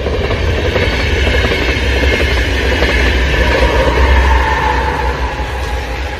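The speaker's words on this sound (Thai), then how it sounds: "เสียงรถไฟมาค่ะ" Train passing near a forest at a house in Finland, a loud, steady rumble with rhythmic wheel clatter that holds for several seconds and eases slightly at the end.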